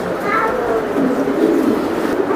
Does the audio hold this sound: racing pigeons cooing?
yes